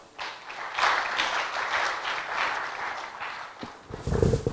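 Audience applause at a road-safety event honouring Ghana's Minister for Transport, a steady wash of clapping lasting most of the moment, fading briefly before a closer burst of claps at the end.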